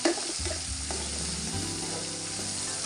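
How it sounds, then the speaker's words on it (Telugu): Spiny gourd curry with onions frying in a pan, a steady close sizzle broken by the scrape and clatter of a spoon stirring. "ఇది కొంచెం మంచిగా ఫ్రై కావాలి"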